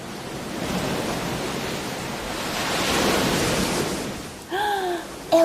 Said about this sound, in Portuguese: Olha que som legal que o mar faz.